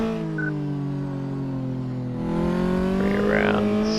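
A car in Car Mechanic Simulator 2014 weaving through a slalom test, engine humming at steady revs, then rising with a brief tire squeal near the end.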